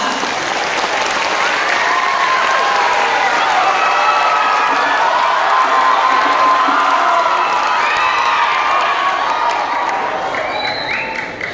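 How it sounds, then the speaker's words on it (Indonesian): Large audience of over a thousand at an anniversary gathering bursts into sustained applause with cheering and shouts, a dense, loud, continuous roar of clapping and voices lasting the whole stretch. "Tepuk tangan buat kita semua."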